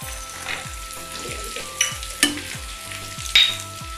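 Chopped carrots and beans for upma sizzle steadily in a hot pan, with a few sharp clicks of a spoon against the metal over the continuous frying hiss.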